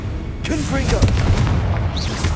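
Blasting spell explosions in the Hogwarts Legacy video game boom loudly through a dense rumbling mix of game effects, with a voice speaking and a bright whistling zap near the end.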